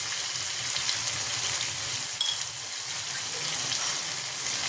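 Tomato, green chilli and ginger paste frying with spices in a pan, giving a steady, dense hiss and sizzle that stays close and even throughout, with no voices.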